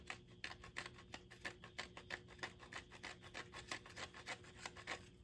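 Rhythmic, raspy scraping strokes of old glue being worked off a plastic fresh air vent from a 1973-79 Ford truck, steady and fairly faint, with no voices.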